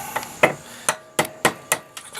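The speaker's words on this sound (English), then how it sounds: "a couple taps, primer's gone" A hammer taps sharply about seven times, driving the spent primer out of a 12-gauge shotgun shell held in a vise, each knock crisp, close and evenly spaced with no talk.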